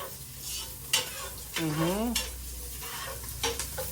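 Onions frying in a pan for Filipino tinola, a steady close sizzle with a spoon stirring and scraping through it, and a short wavering voice-like tone in the middle.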